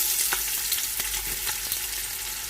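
Sliced onions frying in ghee inside a pot, giving a soft, continuous sizzle with a few light stirring taps, fairly quiet and close, with no talking.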